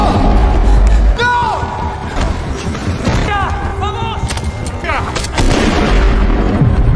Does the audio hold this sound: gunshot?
yes